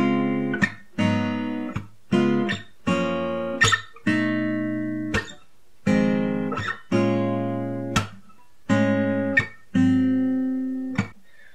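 Acoustic jazz guitar strums the second chord progression from a song, sharp chord hits ringing out in a steady repeating pattern, close and clear with no voice.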